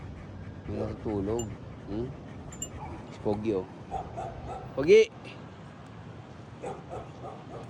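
A dog barks, yips and whimpers in short bursts at close range, mixed in with people talking throughout.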